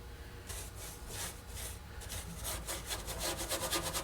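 Paintbrush scrubbing POR-15 paint back and forth over a heavily rusted Case 224 mowing deck, a steady series of close, rough rasping strokes that quicken and grow louder toward the end.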